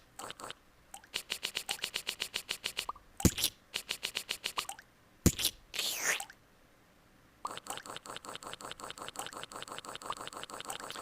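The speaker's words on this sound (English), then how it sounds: "the acid drops that are dripping down there are kind of hard to see" Small acid drops dripping in a video game, a quick run of soft rhythmic plops and drips repeating in bursts, broken by a few louder splashy hits and brief pauses, moderately close and alone.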